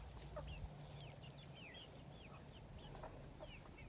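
Several chickens cluck softly, their short calls overlapping steadily at a moderate distance against a low background hum.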